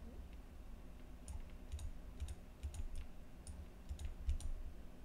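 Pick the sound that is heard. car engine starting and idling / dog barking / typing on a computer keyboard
typing on a computer keyboard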